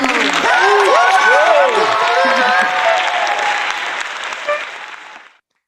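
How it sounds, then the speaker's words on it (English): Loud, sustained audience applause welcoming a comedian to her first show, online, a dense wash of clapping with some cheering and voices mixed in, holding steady before tapering off and stopping. "everyone give her a welcoming, loving applause for the wonderful Sydney Battle at her first show"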